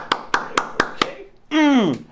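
A lone person claps five sharp, evenly spaced times, close and loud, then gives a short vocal sound right after the last clap.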